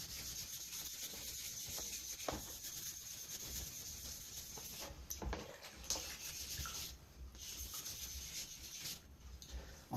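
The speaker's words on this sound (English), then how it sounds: "sandpaper and force it into the bowl and twist it" Sandpaper is forced into the bowl of a stone pipe and twisted, giving a close, quiet, scratchy rubbing that comes in uneven strokes with small knocks and pauses.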